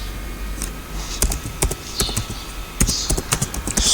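Close clicks on a computer keyboard while typing a plugin search, a few quick irregular clusters of keystrokes over a low background hum.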